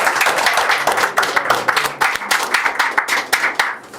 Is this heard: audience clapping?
yes